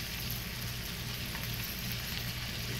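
Onion and garlic fry in a pan with chicken, giving a steady, close, even sizzle with no break.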